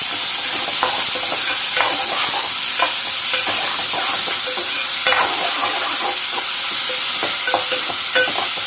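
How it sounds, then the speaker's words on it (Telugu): Finely chopped onions frying and being stirred in a pan on a gas stove, with continuous loud sizzling and repeated close scraping strokes throughout. "ఇప్పుడు ఒకసారి తిప్పుకుందామండి."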